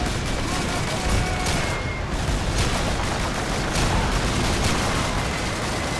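Gunfire in the Call of Duty 2 video game: dense, continuous bursts of rifle and machine-gun fire with distant booms, loud and unbroken throughout.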